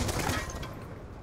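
A Skorpion EVO submachine gun fires in Black Ops II multiplayer, giving a brief, dense burst of rapid shots that starts loud and tapers slightly.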